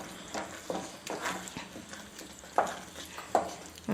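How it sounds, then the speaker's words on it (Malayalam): Curry being stirred with coriander leaves, a spoon scraping and knocking through thick gravy in a series of soft scuffs with a few sharper clinks, close and moderately loud. "നമുക്കിത് നന്നായിട്ടൊന്ന് മിക്സ് ചെയ്യാം"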